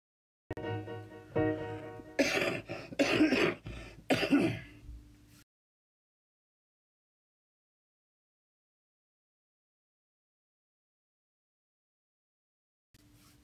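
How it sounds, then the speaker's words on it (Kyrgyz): Several harsh throat clearings and coughs from one person come in close, loud bursts over a few seconds, then the sound stops and long silence follows. "Жөтөл кетпей жаткан."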